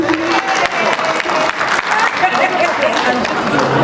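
Audience applause and cheering at a gala evening, a dense, continuous wash of clapping with shouts mixed in, loud and close throughout, with voices calling out over the crowd.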